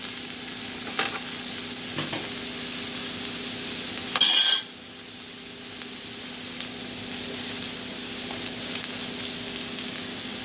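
Sliced potatoes fry in oil in a pan while a spoon stirs them, giving a continuous soft sizzle with scraping clicks and a louder burst of stirring near the middle, fairly close and steady.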